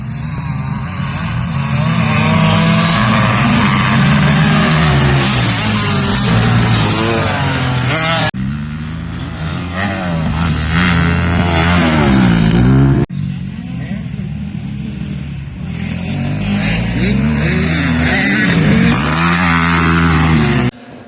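Dirt bikes racing in a motocross race, with engines revving and droning continuously at close range and pitch rising and falling through gear changes. Talk is faintly present underneath.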